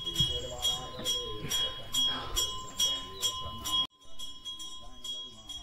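Temple bells at Ghoda Ghat temple ring in a quick series of bright metallic strikes, with a lingering hum between hits and a sudden drop near the end.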